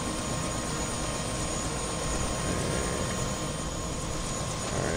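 A helicopter in the video game Prey flies nearby, giving a steady, loud, continuous rotor and engine roar that holds for the full stretch with no speech over it.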